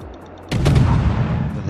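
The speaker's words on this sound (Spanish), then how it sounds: "Ahí alguien está disparando, fíjense." Naval gunfire from warships in the video game World of Warships: a sudden loud boom opens a dense, rumbling barrage of shots that continues steadily, fairly close and without talk.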